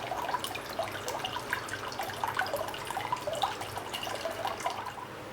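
Water from a freshly opened tender coconut pours and splashes into a juicer cup, a continuous trickle broken by irregular drips and gurgles.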